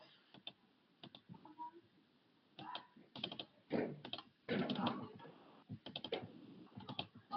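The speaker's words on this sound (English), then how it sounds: "So let me just type it here." Fingers type on a computer keyboard up close, quiet irregular runs of clicking keystrokes with brief pauses, some denser bursts in the middle, and no talking.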